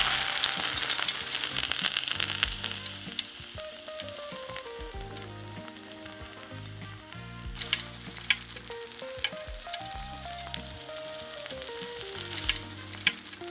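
Thin slices of Korean bulgogi fry in a pan with a dense, loud crackling sizzle that runs throughout, beneath a soft background melody, with no voices.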